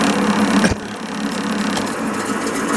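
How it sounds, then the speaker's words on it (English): A metal lathe takes fine cuts while turning a part for a 1929 Chrysler Coupe door handle, a steady loud mechanical whir with one sharp knock near the start. "put it in the lathe and turn it down"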